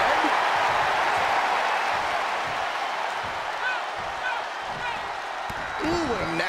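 A WWE wrestling arena crowd roars and applauds in a dense, sustained wash of noise with a few claps and shouts, steady and far-filling throughout.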